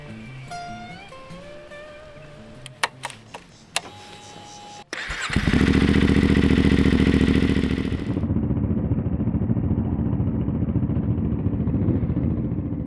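A Suzuki DRZ and a 450 MT adventure motorcycle start up and rev loudly nearby after a few sharp knocks, then settle into a steady, rumbling idle-to-ride engine drone that continues to the end.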